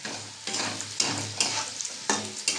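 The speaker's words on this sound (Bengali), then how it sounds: "এবার দেখো বন্ধুরা, আমি একটু নেড়ে নেব।" Pointed gourd cooking in a pan with most of its released water absorbed, stirred with steady scraping strokes roughly every half second over a continuous close sizzle.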